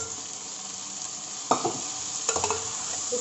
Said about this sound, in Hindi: अब मैं इसके अंदर डालूंगी पास्ता जो मैंने बॉईल करके रखा हुआ है